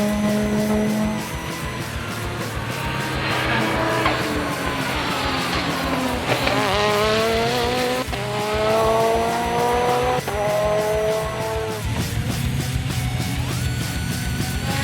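A race car on a track running new tyres, its engine droning loud and steady throughout, with pitch rising and falling through gear changes and corners, and a faint tyre squeal at times.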